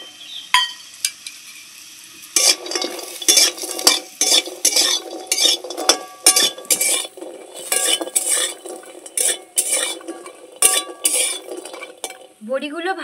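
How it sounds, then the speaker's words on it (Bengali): Lentil dumplings (bori) stirred in a wok over a wood-fired clay stove, a utensil clanking and scraping against the pan in repeated quick strokes over a low sizzle. "বড়িগুলো দিয়ে দিচ্ছি।"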